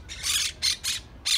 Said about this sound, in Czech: Tam jsou papoušci.